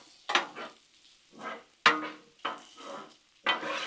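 Cabbage stirred and tossed on a Blackstone flat-top griddle: five distinct scraping, sizzling bursts of spatula work, close and fairly loud, separated by short quieter gaps with no talking.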